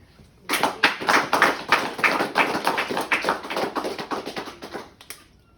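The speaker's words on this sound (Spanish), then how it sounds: "Denle un aplauso a Cristo" A church congregation claps together in steady rhythmic applause for several seconds, dense and close, then stops abruptly.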